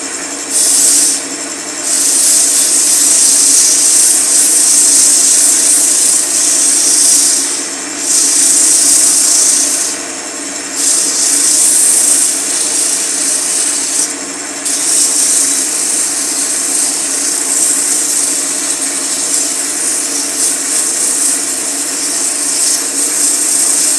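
A wood lathe spins while a turned wooden spinning top is sanded, a steady loud motor hum and whir with a hissing rub that briefly dips and returns several times.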